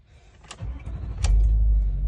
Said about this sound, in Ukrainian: Звук мотору досить прикольний